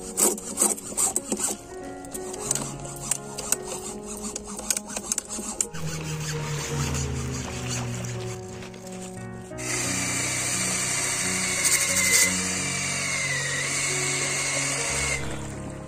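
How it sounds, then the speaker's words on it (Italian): Cordless drill grinding and cutting slowly through a car tire, rough rasping and rubbing bursts, irregular at first, then a steadier higher-pitched whir later on, close and fairly quiet, no talk. "dopo tre quarti d'ora l'avvitatore mi ha abbandonato, sono riuscito a sezionarlo quasi fino alla fine"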